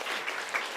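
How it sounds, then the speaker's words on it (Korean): A church congregation applauds in encouragement during a Sunday service, a brief, dense burst of clapping filling the room without any speech. "여러분들 격려의 박수를 한번 쳐드리세요."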